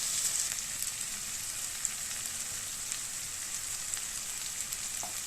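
Onions with chopped ginger fry in a pan as part of a chitol fish recipe. The crackling sizzle is steady and bright and stays up close throughout, with no talk.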